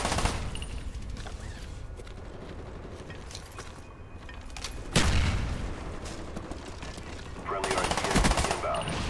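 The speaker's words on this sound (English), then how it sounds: "That guy was shooting me" Rapid automatic Uzi and rifle gunfire in a Black Ops multiplayer match, bursts rattling throughout with louder volleys near the middle and end, close and harsh over game noise.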